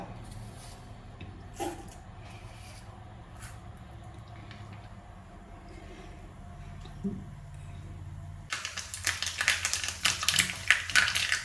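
Fenugreek and mustard seeds splutter and pop in hot oil in a pan, starting as sparse crackles and building into a dense, loud, continuous crackling toward the end.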